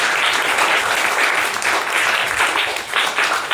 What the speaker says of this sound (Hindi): ताली बजाओ एक घर